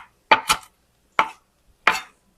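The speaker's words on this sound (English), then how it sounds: "don't worry about chopping this too small because you can't really" Four knife chops on a cutting board while preparing garlic and greens for angel hair pasta, a quick double strike followed by two separate cuts, close and crisp with no talk.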